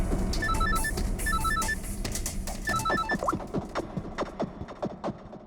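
A telephone rings in repeated electronic trills, three short bursts, followed by mechanical clicks and clatter as the ringing stops.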